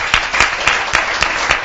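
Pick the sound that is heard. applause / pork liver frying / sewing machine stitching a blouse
applause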